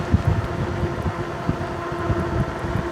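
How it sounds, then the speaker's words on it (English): Wind buffeting the microphone while riding a Lacros Cyclone electric bike outdoors at around 28 mph, a steady low rushing roar with irregular gusty thumps and no talking. "The wind out here is incredible."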